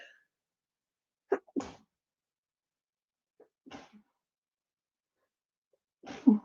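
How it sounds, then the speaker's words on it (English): A couple of soft, close sneeze-like bursts spaced a few seconds apart, with quiet breaths between and a louder burst at the end. "excuse me, I'm going to sneeze"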